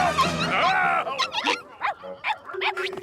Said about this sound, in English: Sounds like Arbuckle's caught a lot of dogs.